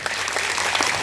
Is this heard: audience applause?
yes